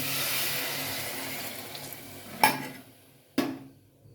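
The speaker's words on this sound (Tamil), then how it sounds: "1 டம்ளர் தண்ணி ஊற்றிட்டேன்." Water from a tumbler splashes into a cooking pot of sautéed vegetables for sambar rice, a broad hissing pour that fades out, followed by two sharp clinks of metal vessels.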